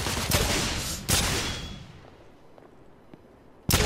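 Gunshots in the video game The Order: 1886: three loud, sharp shots, two close together early and one near the end, with echoes that fade away between them.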